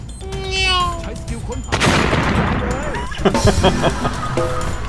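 In a video game, a grenade blast bursts out loudly partway through, followed by rattling gunfire and debris as a player keeps talking over the action.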